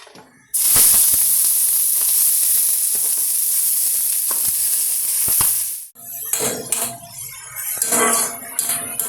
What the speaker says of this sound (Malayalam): ഇത് പൊട്ടിക്കഴിഞ്ഞ് നമുക്കിനി അരിഞ്ഞ് വെച്ച തണ്ട് ആദ്യം ഇട്ട് കൊടുക്കാം.